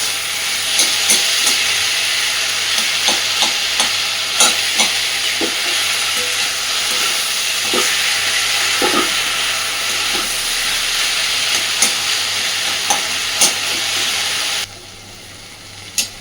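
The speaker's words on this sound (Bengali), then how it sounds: "ভাজতে ভাজতে ঘাটতে ঘাটতে আমি কিন্তু পুরোই কুমড়োটাকে এইভাবে নেড়ে নেড়ে ঘেটে দিয়েছি।" Mashed pumpkin fries in oil in a pan with a loud, steady sizzle, punctuated by frequent stirring clacks and scrapes. The sound drops away sharply near the end.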